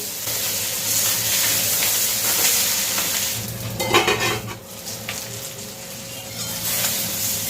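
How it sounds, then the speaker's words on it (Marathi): Stuffed brinjal is sautéed in oil with mustard seeds, turmeric, red chilli powder and salt, giving a steady close sizzle with a spatula scraping and stirring the pan midway. "मोहरी हळद लाल तिखट आणि ही वांगी घालून घ्यायची आहे मीठ ती आपण परतून घ्यायची आहे"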